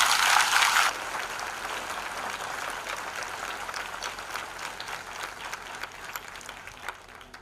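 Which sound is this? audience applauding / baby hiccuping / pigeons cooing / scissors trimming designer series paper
audience applauding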